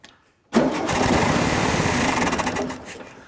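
A 1969 VW Beetle engine, sitting unused for 14 years, cranks and catches at once, then runs at a loud, steady, rattly idle throughout. The sound dies off slightly near the end.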